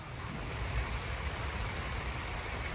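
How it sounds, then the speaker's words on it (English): Heavy rain pours down in a dense, steady hiss across the whole stretch, with no voices and no breaks. "I just made it home and it is pouring down raining."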